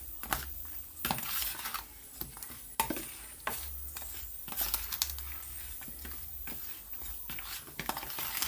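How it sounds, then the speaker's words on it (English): Brown stew chicken with browning gets mixed in a pot, with repeated scraping and clattering spoon strokes over a soft sizzle, close and irregular, with no talking. "adding a little bit of browning, now I'm gonna mix it up."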